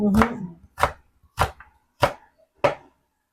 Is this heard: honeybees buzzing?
no